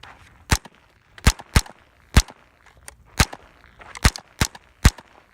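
Sharp .22 LR gunshots crack out in an irregular series of about nine loud, close reports, some spaced apart and some in quick pairs, with no talking in between.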